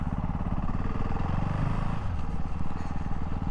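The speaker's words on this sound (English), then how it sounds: "Downshifts are lovely, absolutely lovely." A 2024 Ducati Hypermotard 698 Mono RVE single-cylinder motorcycle being ridden, its engine thrumming loud and steady up close as the rider works through downshifts.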